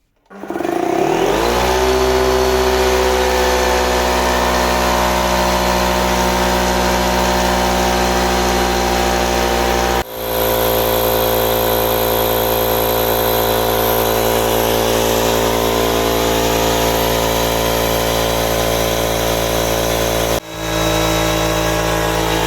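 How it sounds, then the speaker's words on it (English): A 50 liter air compressor powered from an AllPowers R1500 portable power station runs loud and steady, a constant motor drone with strong low hum that keeps going without pause, with two brief dips where the motor stutters before resuming. "eventually you can use it to power your 50 liters air compressor"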